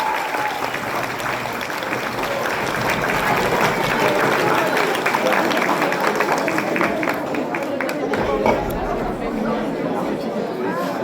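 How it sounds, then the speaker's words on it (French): Audience at a cosplay contest applauds loudly and continuously, dense clapping mixed with crowd chatter and cheering throughout, with talk from the stage blended in. "Applaudis bien fort."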